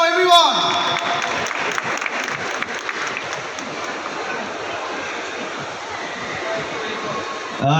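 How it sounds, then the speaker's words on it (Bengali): An audience applauds actor Indrashis Roy on stage, a sustained, fairly close wash of clapping that holds steady for several seconds. "আরে জোরে হাততালি ইন্দ্রাশিস রায়ের জন্য"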